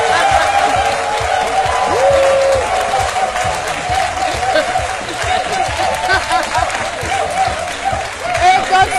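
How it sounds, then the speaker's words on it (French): A television studio audience claps and cheers as a guest, Eudoxie Yao, joins the set of the show C'MiDi, steady applause continuing under a host's voice. "je vous demande d'applaudir très fort"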